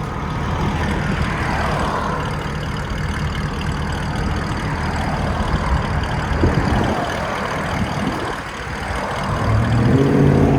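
A deep, rumbling 6.2L V8 in a C6 Chevrolet Corvette with a Borla ATAK catback exhaust idles steadily for several seconds, its low throaty burble swelling louder near the end, with faint traffic noise behind it.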